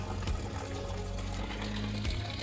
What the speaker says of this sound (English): I'm running it through this canister filter